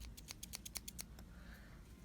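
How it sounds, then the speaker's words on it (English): Quick series of sharp scissor snips cutting a rubber loom cap band, about ten in a row, close up and fairly quiet over a low background hum, then a short stretch of faint rustling. "we can now grab our scissors and cut our cap band"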